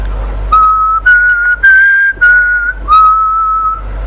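A single clear whistled melody, several sustained notes with short breaks between phrases, close and loud with no talking.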